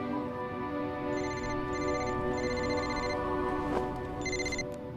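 A telephone rings in a Hollywood action movie dubbed into Hindi. The ringtone comes in several repeated bursts over a steady background hum, fairly clear and close.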